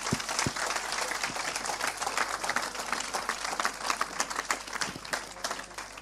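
Audience at a Christian teaching session breaks into sustained applause, a dense crackle of many hands clapping at close range with scattered sharper claps and a faint voice underneath.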